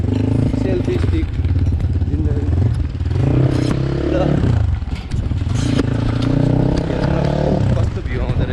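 A motorcycle rumbles steadily as it rides along a Kathmandu road, its engine drone loud and continuous with a brief dip, while people talk over it throughout.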